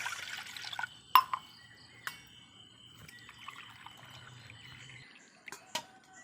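Water trickles and splashes into a pot in short bursts, glassful by glassful, with faint drips and a couple of sharp clinks, quiet and close.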